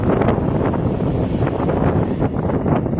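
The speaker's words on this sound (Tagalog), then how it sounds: "Grabe yung lakas ng hangin mga boss" Strong wind roars steadily and loudly against the microphone outdoors, a dense unbroken rush with gusting swells throughout.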